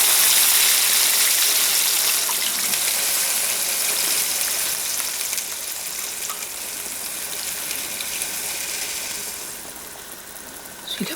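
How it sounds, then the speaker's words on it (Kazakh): Broth simmering at a rolling boil in a pot, a steady broadband bubbling and hissing that holds throughout and eases slightly toward the end, with no voices. "Мына өзі қайнаған сорпаны"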